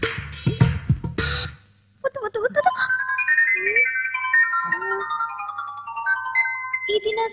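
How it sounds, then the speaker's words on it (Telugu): A mobile phone ringtone plays a bright electronic melody of sustained notes for several seconds, loud and close, after a burst of speech at the start. "ఇది నా సెల్ రింగ్ టోన్ లా లేదే."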